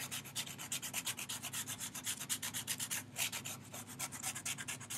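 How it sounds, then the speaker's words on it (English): Purple chalk rubbed with a Q-tip makes quick, steady back-and-forth scratchy strokes, close and fairly even throughout, with no voices. "Rubbing the chalk."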